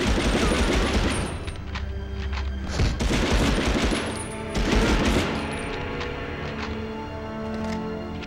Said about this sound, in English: The fuck is shooting at me?